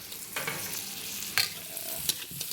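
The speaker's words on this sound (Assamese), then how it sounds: "এনেকৈ মাজে মাজে হিলাই থাকিম আমি," Pork frying in a kadai with turmeric and salt, stirred steadily: a constant close sizzle with scraping strokes of a spoon against the pan.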